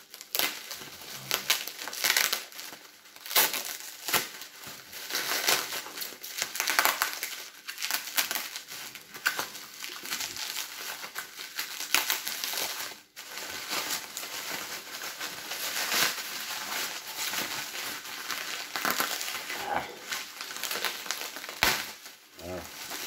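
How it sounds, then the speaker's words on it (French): Dense, continuous crinkling and crackling of bubble wrap being unpacked, close and busy, with irregular bursts throughout and no talking. "il y a beaucoup de papier bulle"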